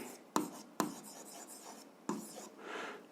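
A pen writes an algebra solution on paper, with a few sharp taps as the pen meets the page and soft scratching strokes between them, close and quiet, with no voices.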